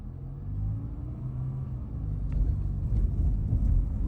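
A Waymo driverless car passes on a San Francisco street, a low engine and tire rumble that builds toward the end, with wind buffeting the microphone.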